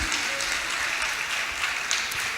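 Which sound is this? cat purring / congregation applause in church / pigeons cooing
congregation applause in church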